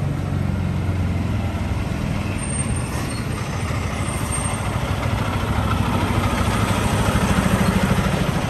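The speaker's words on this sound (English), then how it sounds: "Got a truck coming here." A truck rolls by on a road near a parked 1970 Dodge Charger, its broad engine and road roar holding fairly steady and building slightly toward the end, with no voices.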